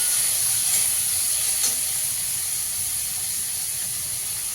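Chopped tomatoes sizzle in a pan over fried onions for an egg tarka, giving a steady, loud hiss and crackle that continues without speech.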